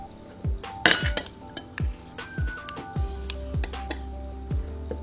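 A spoon scoops white rice from a dish, several light clinks of metal against the dish spaced about half a second apart, close and fairly soft, with no talking.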